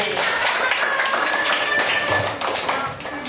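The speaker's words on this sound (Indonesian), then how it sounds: "Tepuk tangan buat Siti" A Year 4 primary classroom clapping for a pupil, a quick patter of many small hands that runs steadily for a few seconds, close by and fairly loud, with some voices mixed in.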